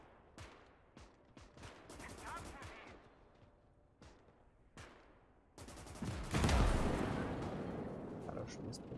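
Gunfire in the WWII strategy game Gates of Hell: Ostfront, a run of sharp single shots and quick bursts spaced across the scene, ending in a louder, heavier blast with a long rumbling tail.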